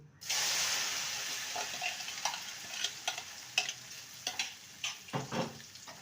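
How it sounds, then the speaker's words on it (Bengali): Marinated soya chunks hitting hot mustard oil burst into a loud sizzle that slowly settles, followed by a series of rhythmic spatula scrapes and stirs through the frying, no one talking. "ভালো করে ভেজে নেব মিডিয়াম ফ্লেমে ভেজে নিতে হবে"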